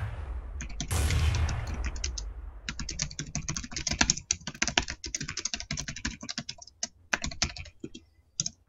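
Rapid typing on a computer keyboard, clustered key clicks in uneven bursts that grow busier and sharper after a brief muffled rustle at the start, with no voices.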